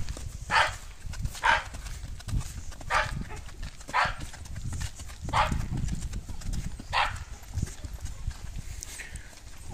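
A quarter horse walking while ridden in training for a vaquejada, hooves clip-clopping in a steady, moderately close rhythm of distinct thuds, with low background rumble between steps.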